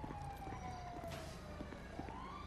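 A police car siren from Grand Theft Auto V wails as one steady, sliding tone throughout, mixed into dense game noise with no voices.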